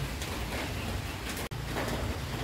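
Steady rain falls nearby, a constant broadband patter with no voices, briefly cut off for an instant midway.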